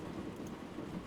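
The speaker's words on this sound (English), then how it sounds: "Is the rain really fucking loud here?" Heavy rain pours steadily outdoors, a loud, even wash of noise with a low rumbling undertone and no break over about a second.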